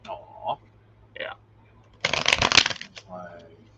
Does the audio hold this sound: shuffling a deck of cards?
yes